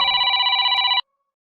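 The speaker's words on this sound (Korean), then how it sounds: "아주 옛날 전압의 소리인데요. 레트로 80년 폰입니다." A retro 1980s-style telephone ringtone on a Samsung Galaxy smartphone plays a single fast, trilling bell ring for about a second, then stops abruptly.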